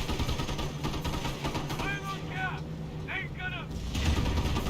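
Gunfire and mortar fire in the Company of Heroes video game: rapid bursts of shots and dull blasts over a rumbling battle background, with whistling descending sounds, all under a commentator's voice.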